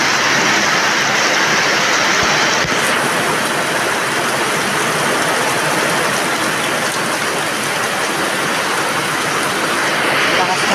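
Heavy rain pours down loud and close beside rushing runoff water, a dense, unbroken roar that holds steady throughout.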